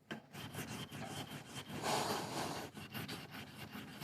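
Rhythmic strokes of hand sanding across a CA (cyanoacrylate) finish on wood, a soft, close, scratchy rubbing that repeats steadily back and forth, quiet and alone without speech.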